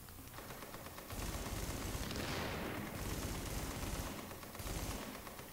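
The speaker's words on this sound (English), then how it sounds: "Right, I'm going to just chuck a grenade over the back of him." A grenade blast in The Division, a long roaring wash of explosion and crackling gunfire that swells, fades and swells again, loud and dense with no voices.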